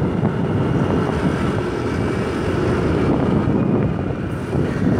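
A Yamaha Aerox motor scooter rides through heavy traffic in Singapore, giving a steady, loud, continuous rush of engine and wind noise with no break.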